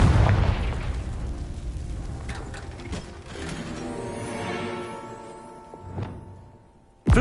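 A Confringo fire spell in Hogwarts Legacy erupts into a loud blast with crackling, mechanical-sounding debris that decays over several seconds, followed by a smaller sharp burst and a sudden loud hit at the end.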